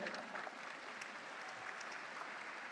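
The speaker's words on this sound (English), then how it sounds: "Let us have a big round of applause for our Palestinian lecturers and friends." A university audience at a student question-and-answer session with the prime minister applauds Palestinian lecturers and friends: dense, steady clapping from a large crowd, even and fairly soft, as if heard from a distance in a hall.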